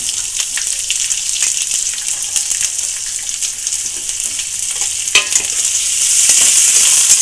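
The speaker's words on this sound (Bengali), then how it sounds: "পেঁয়াজটাও হালকা বাদামি করে ভেজে নিলাম" Onion fries in oil until light brown before water spinach goes in, a loud steady sizzle with light stirring clicks, swelling into a stronger hiss toward the end.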